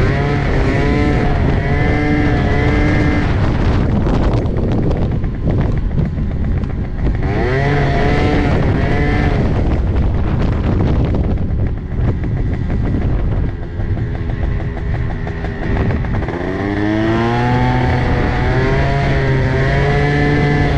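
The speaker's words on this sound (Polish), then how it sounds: "Coś głośno zaczął chodzić ten skuter, nie wiem dlaczego." An Italjet Dragster scooter runs loudly, its engine note rising and falling in repeated revving sweeps, dense and close, with a harsh buzzing tone throughout.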